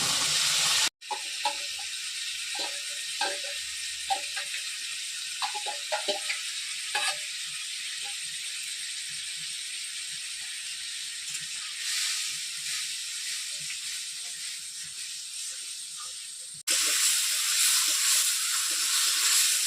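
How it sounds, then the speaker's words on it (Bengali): Pointed gourd (potol) frying in hot oil, a steady dense sizzle with scattered crackles and pops throughout, rising abruptly louder near the end as more moisture hits the pan. "টেস্ট করে রাখা পটল তেল দিয়ে দিচ্ছি তেলের মধ্যে"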